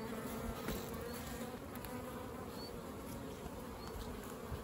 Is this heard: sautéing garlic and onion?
no